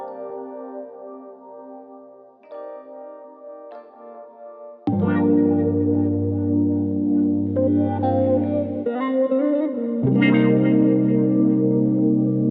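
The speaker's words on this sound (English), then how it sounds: "For that I'm only playing the two main chords, and only thing I'm adding is some reverb." Two main chords played on a keyboard or synth with heavy reverb, forming a sustained, washy chord bed for an R&B sample; a thinner layer opens, then a fuller, louder layer enters with swelling echoing tails.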